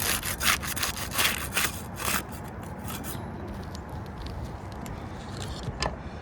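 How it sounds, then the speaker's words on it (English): A putty knife is worked under roof shingles to break their seal, giving a series of sharp scraping and rasping strokes, close and fairly loud, that thin out into lighter intermittent scratches. "We'll use the putty knife to unseal the top shingle."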